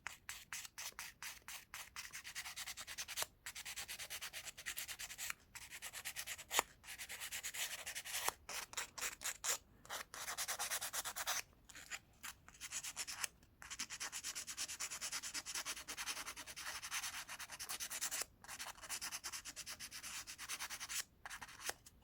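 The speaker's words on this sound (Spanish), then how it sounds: "Ya que está bien lijado este contacto de metal" Close, rhythmic sanding strokes rasp back and forth on a darkened metal contact of a car brake light switch, quick repeated scrubbing with brief pauses, no voices.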